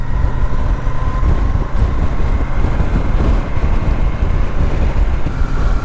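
A new Royal Enfield Super Meteor 650 on the move, heard as a loud, dense low rumble of engine and road mixed with heavy wind buffeting, continuous and unbroken.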